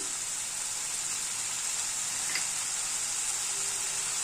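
Jackfruit kofta curry sizzles steadily in a pan while being stir-fried, a continuous loud frying hiss with no talking.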